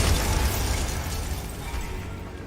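A Bombarda blasting spell detonates in Hogwarts Legacy, a loud broadband explosion that starts at full force and slowly decays over a couple of seconds with no voices.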